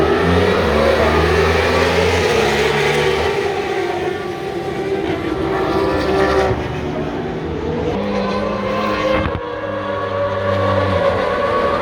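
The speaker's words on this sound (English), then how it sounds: "They're out on their warm-up lap, I believe, for the Medallia Superbike Race 1." Superbike racing motorcycles on a warm-up lap at Barber Motorsports, a continuous loud engine roar from close by that rises and falls as bikes pass, with no talking.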